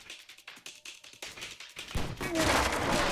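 Rapid gunfire in the action game Stranglehold: a quick string of light, evenly spaced shots, then a dense, loud roar of sustained firing and explosion-like noise that fills the last second and a half.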